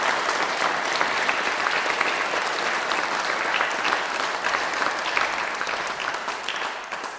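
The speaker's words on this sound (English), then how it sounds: "give them all a big round of applause" An audience applauds medalists at a British Empire Medal investiture, steady dense clapping from a room full of people, sustained and even before slowly tapering at the end.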